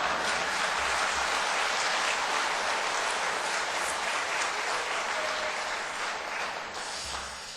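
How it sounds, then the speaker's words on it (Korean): A church congregation at a revival service breaks into sustained applause, a steady, moderately faint wash of many clapping hands that fades slightly toward the end. "다른 교회에서는 박수를 치던데 박수를 안 쳤어요."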